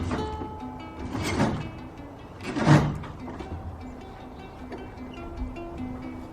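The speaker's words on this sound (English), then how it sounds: "The door's closing for the winter? Oh. Ah, off the track." A sliding door in a mobile home is pulled shut and comes off its track, giving two rough, scraping rumbles a second or so apart with quieter knocks between them.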